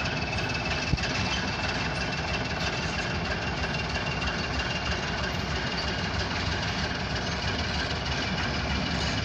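A short OC&T grain hopper freight train heading south through a grain hopper yard in Titus, a steady loud rumble of engine and rolling wagons, unbroken throughout with no talking.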